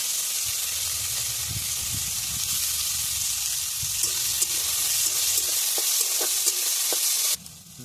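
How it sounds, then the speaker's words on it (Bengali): Finely chopped onions frying in hot oil in a pan give a close, steady sizzle with scattered stirring scrapes and clicks, and the frying quiets abruptly near the end, with no talking. "তেলের মধ্যে পেঁয়াজগুলো দিয়ে দেবো ছোটো ছোটো করে কাটা পেঁয়াজ"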